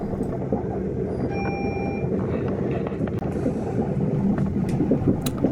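A train running along the coastal railway between Maryport and Seascale, close to the shore, gives a continuous loud low rumble and rattle of wheels on track, with faint high squeals and clicks over the steady roar.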